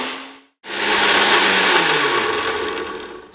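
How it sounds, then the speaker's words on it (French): A kitchen blender whirs loudly and steadily, mixing a vinaigrette after vinegar is added. It starts abruptly after a brief silence and keeps a dense, even roar to the end. "Vous ajoutez votre vinaigre à l'intérieur, comme ceci, et nous repassons pour un petit coup de mixeur."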